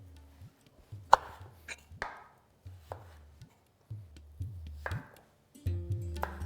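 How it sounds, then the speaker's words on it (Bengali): A knife cuts potatoes into medium cubes on a board. Sharp, separate chops land at an uneven pace, close and clear, with small handling noises between them and no talking. "আমি এখানে আলুটাকেও ওই ডুমো ডুমো করেই কেটে নেব"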